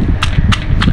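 Sour belimbing buluh fruit is pounded in a mortar with salted fish and anchovies, giving three quick, sharp, close thuds at an even rhythm over a low background hum.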